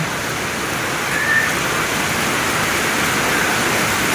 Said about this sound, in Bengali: বৃষ্টিটা ভালোই ঝমঝম করে পড়ছে।